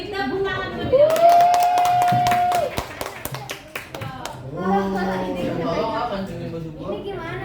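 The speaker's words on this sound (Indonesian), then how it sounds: "biar Radwa semangat, kita beri tepuk tangan terlebih dahulu" A small classroom group gives a brief, scattered round of clapping during a biology lesson on the digestive system, with a drawn-out vocal cheer over it and talk continuing around and after the claps.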